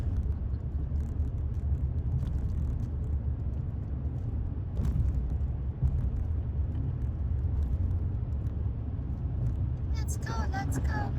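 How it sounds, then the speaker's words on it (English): Constant low road rumble and engine drone heard from inside a car driving north in heavy traffic, a steady near-continuous roar with faint brief higher sounds near the end. "So much traffic."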